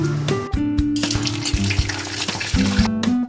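Panch phoron, fennel seeds and dried red chilies sizzle and crackle in hot white oil in a kadai on a gas stove, a steady close frying hiss with brief stirring scrapes and spits throughout.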